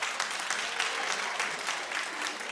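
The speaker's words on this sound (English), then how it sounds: "Clap if she needs the ring." Studio audience clapping in a steady, dense burst of applause that fills the whole moment without pause.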